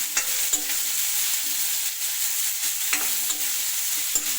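Chopped onions sauté lightly in a pan for semiya upma, a steady close sizzle with a spoon scraping and stirring in occasional clacks against the pan.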